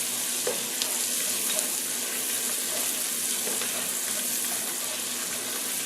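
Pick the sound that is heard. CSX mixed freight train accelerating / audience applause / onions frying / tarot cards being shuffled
onions frying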